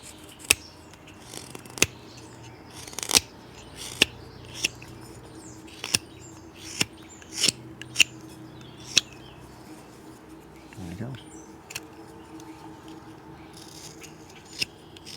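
Sharp knife cutting into wood while carving a sailor figure, rounding off hard corners: a run of crisp, close clicks and snicks at an irregular rhythm, with a softer scraping stroke near the end and no talk.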